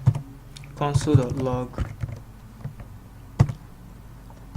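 A handful of scattered keystrokes on a computer keyboard while writing JavaScript code, sparse and close, following a short spoken phrase.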